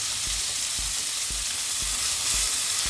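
Meatballs fry in a pan of avocado oil, a steady broadband sizzle running throughout with soft rhythmic knocks roughly every half second as they are turned, close and fairly loud, with no talking.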